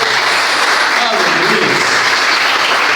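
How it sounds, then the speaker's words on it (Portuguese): A church congregation applauds after a sermon on Psalm 37, giving a dense, even wash of clapping that holds at a steady level throughout, with voices audible alongside it. "A gente pode aplaudir o Senhor por essa mensagem."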